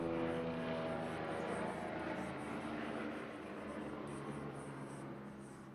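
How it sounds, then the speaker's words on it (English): An airplane passes overhead during an indoor life drawing session, a steady broadband engine drone with low tonal hum that holds fairly loud and slowly eases off, with no talk over it. "Also got an airplane, apparently."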